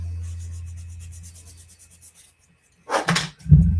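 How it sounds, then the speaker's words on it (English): Brief rubbing strokes of a sanding stick on a scale model part scrape softly up close, then a couple of quick louder scuffs follow after a pause. "it just takes a slight touch with the sanding stick to kind of finish that off"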